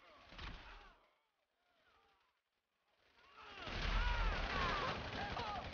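Gunfire in the GTA 5 video game, a modded superhero battle, with bursts of shots and booming impacts that fade briefly before a denser, louder barrage, under a steady game backdrop.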